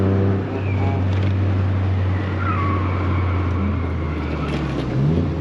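A Toyota GR Corolla engine pulls hard under acceleration on a winding mountain road, a loud, steady droning roar with rising pitch, heard from inside the car with road and wind noise.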